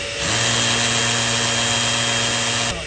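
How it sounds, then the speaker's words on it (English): A power drill with a concrete bit whines steadily while boring a pilot hole through a concrete block wall, starting abruptly and running at constant pitch for a few seconds before stopping, close and loud. "create a pilot hole through the block wall here using my concrete bit"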